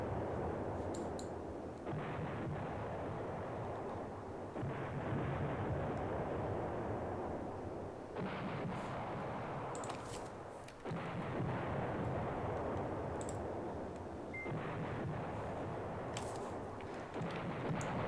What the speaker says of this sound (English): this artillery has not been effective yet